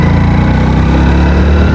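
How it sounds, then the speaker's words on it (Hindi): A motorcycle engine pulls under sudden acceleration in second gear, a loud close buzzing drone that thickens and deepens slightly as the revs climb. "एकदम से एक्सीलरेशन दूंगा तो बाइक अच्छे से पावर अपनी कंज्यूम कर पाएगी"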